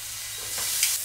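Beef chunks browning in a pan for a slow-cooker stew: a steady, close, hissing sizzle throughout, with faint stirring scrapes and no talk.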